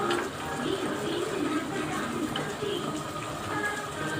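Soaked tamarind water is poured into a pot while making colocasia (chamagadda) pulusu, giving a steady splashing, rushing pour that runs continuously and fairly close.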